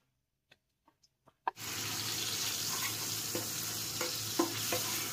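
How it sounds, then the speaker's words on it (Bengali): Onion paste hits hot white oil after a few light clicks, setting off a sudden loud sizzle that holds steady and close, with small stirring scrapes and pops running through it. "এই জলটা যতক্ষণ একটু শুকিয়ে যাক, ততক্ষণ আমি একটু ভেজে নিই পেঁয়াজটাকে।"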